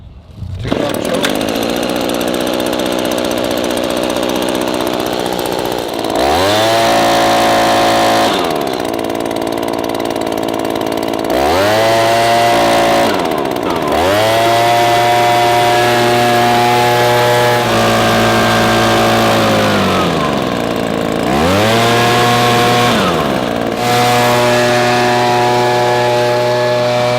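An Echo PB-2620 handheld gas leaf blower roars loudly up close, its two-stroke engine revving up and dropping back to idle several times in repeated surges, with no voices.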